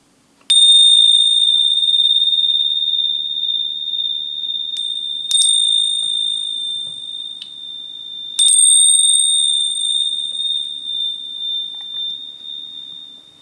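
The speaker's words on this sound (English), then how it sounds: "Just going to do the bells just to clear that energy 3 times" Small bells struck three times to clear energy during a royal family card reading, each strike a bright ringing tone that sustains and slowly decays before the next, alone with no talk.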